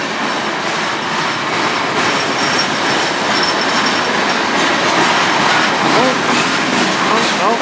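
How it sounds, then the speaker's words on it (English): A long freight train rolls steadily past close by on the Strathroy Subdivision, a continuous loud rumble with rail clatter and occasional wheel squeal throughout. "Pretty long train."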